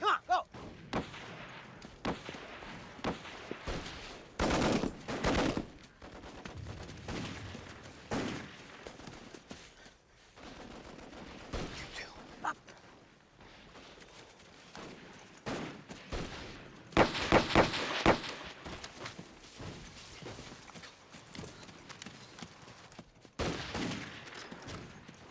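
Battle sounds from a war movie, with machine gun fire, gunshots and heavy explosive thuds going off in bursts and volleys across a long, noisy stretch, loud and dense throughout.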